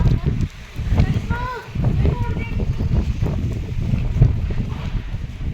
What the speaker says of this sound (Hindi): ऊपर से बहुत गंदी हवा चल रही है।